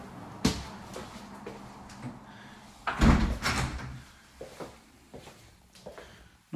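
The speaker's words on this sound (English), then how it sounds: "Nice stable door." A stable door in the rear of a rented house swings open with a sharp knock, then a louder thudding, rattling burst a few seconds later, with smaller knocks and creaks trailing off nearby.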